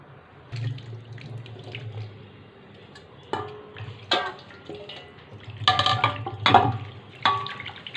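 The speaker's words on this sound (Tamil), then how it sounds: "நெக்ஸ்ட்டு தண்ணி இப்படி சுத்தமாக வாஷ் பண்ணி எடுத்துக்கிடுங்க." Grapes are washed by hand in water at a kitchen sink, with a steady low rush of running tap water and intermittent splashes and clinks as the fruit is stirred, close and moderately loud.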